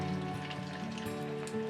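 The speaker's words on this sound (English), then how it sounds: "slowly and carefully lower it into the deep fryer" French fries bubbling in a deep fryer make a dense crackling sizzle that holds steady for a moment over a faint tonal hum, close up and with no voices.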